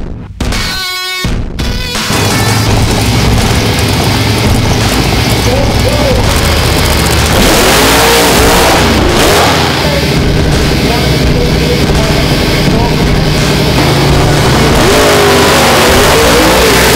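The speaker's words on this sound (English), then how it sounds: "Turbocharged, big block Chevrolet," A turbocharged big block Chevrolet drag car at a drag race roars loudly and continuously, its engine revving and surging with wavering pitch after a brief sputter at the start, under crowd and track noise.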